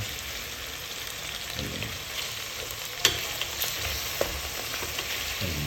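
Chicken pieces browning in a pan for tinola, a steady soft crackle of frying with a few sharper pops and stirring knocks, moderately close and without voices.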